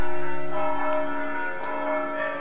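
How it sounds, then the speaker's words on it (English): Church bells ring out on a Sunday in medieval Tallinn, a sustained wash of overlapping tones with strong hum, slowly fading from loud to moderate, no voices. "as you can hear from the bells, it's Sunday. It's church time."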